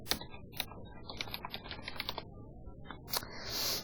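A new folder name is typed on a computer keyboard: a quick, uneven run of close, crisp keystrokes with brief pauses and a final louder tap, with no voices.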